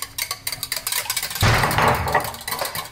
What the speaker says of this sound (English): Whisking my eggies.